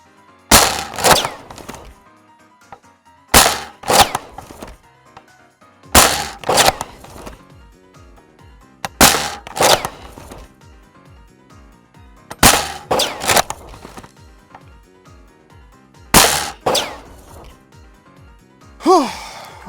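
A high-performance NERF sniper blaster fired again and again through a magazine of darts, six sharp loud bursts spaced a few seconds apart with quieter rattling and handling in between.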